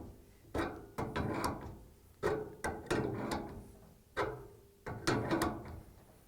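An adjustable wrench turns clockwise to tighten the fitting on a Whirlpool, KitchenAid or Maytag water inlet valve, W10815373, giving a series of sharp metallic clicks and scrapes in uneven clusters, close and quiet.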